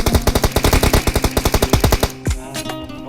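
Rapid bursts of automatic gunfire from a video game rattle out in a fast, loud, rhythmic string for about two seconds. A few scattered shots and game sounds follow.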